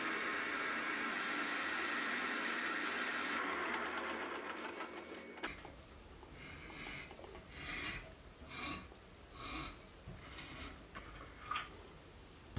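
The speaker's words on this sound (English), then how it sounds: "I'll then drill and tap four holes for the cover plate to bolt onto" A milling machine drills and taps holes in a metal end plate, first a steady high whine, then a series of rhythmic rasping bursts, fairly faint and without talk.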